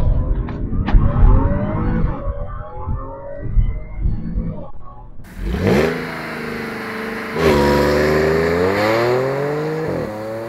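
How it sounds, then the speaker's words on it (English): An Audi S4 B8 does a launch control start, revving hard at 3,500 RPM before releasing into loud, rising full-throttle acceleration through the gears. The engine note climbs in long sweeps, close and dominant throughout. "As you saw, that was extremely fast, sounds absolutely amazing, and you can pretty much beat anybody off the line."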